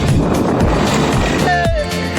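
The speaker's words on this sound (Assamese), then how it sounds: "গৈ আছোঁ এতিয়া বাইকটো চলাই চলাই" A vehicle engine drones under rushing wind noise while moving along, with a brief rising whine near the end.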